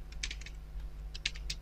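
Text is typed on a computer keyboard while designing a student ID card in Adobe Photoshop: quick clusters of soft, close key clicks in an irregular rhythm over a low hum, with no talk.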